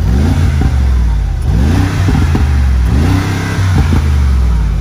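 A Mercedes G63 AMG, heard from outside, revs repeatedly in loud bursts of a deep V8 roar, with rising and falling sweeps and exhaust pops between blips.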